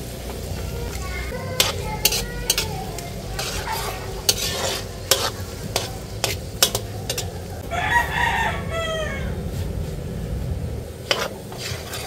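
White onion sizzling in a pan while being stirred with a utensil, a steady frying hiss under repeated scraping knocks, with a rooster crowing in the background.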